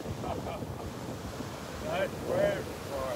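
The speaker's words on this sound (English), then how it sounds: "Nice waves, boy. Nice waves." Ocean waves wash in on a windy beach at Delnor-Wiggins, with steady wind rumble across the microphone and a couple of louder surges; a faint voice briefly comes through.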